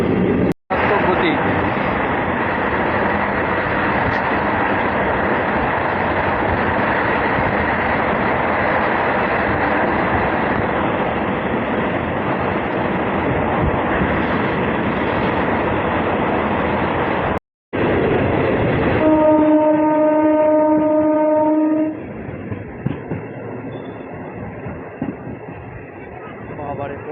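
A MEMU local train pulling out of a station on the Azimganj–Rampurhat line, a loud continuous rumble of moving carriages heard from onboard, followed by a brief whistle-like tonal sound as it gathers pace.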